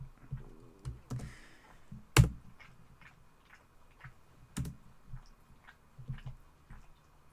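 Typing on a computer keyboard: a few sparse, uneven key clicks, near and fairly quiet, with one sharper thump standing out among them.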